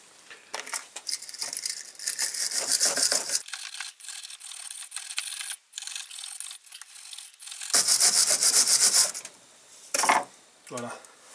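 Rough scraping and rubbing on the gasket joint surface of a 1955 Panhard Dyna Z1 engine during teardown, heard in loud, close bursts broken by pauses.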